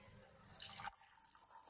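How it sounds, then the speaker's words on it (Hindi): Hot water from a pan heated on a gas stove pours into a cup, a brief faint trickle and gurgle with a few small drips, heard alone at low volume. "इसको गैस को बंद कर देते हैं और डालता हूँ गरम पानी"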